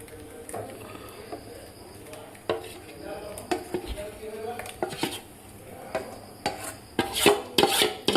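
Suji cake batter being spooned and scraped into a pressure cooker, with clinks of a spoon against metal, rubbing and scraping, and a few sharper knocks toward the end, close by.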